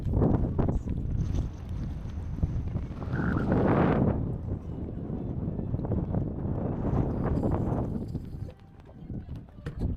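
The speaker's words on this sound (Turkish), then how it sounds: "Evet rüzgar hiç dinmedi." Strong wind at sea near a marina in Ayvalık, buffeting the microphone with a deep, continuous rumble and gusty swells, with faint outdoor noise underneath.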